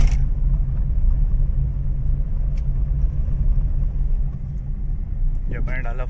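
A car's engine hums steadily with low road rumble throughout, with a voice briefly speaking near the end.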